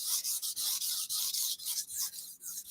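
A kitchen knife is sharpened on a whetstone near the tip, with steady rhythmic hissing strokes repeating about every quarter second, close and fairly quiet without talking.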